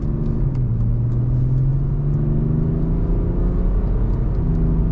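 A BMW 730xd 7 Series diesel car is driven at full throttle, its low engine roar climbing steadily in pitch as it accelerates, loud and continuous with no talking.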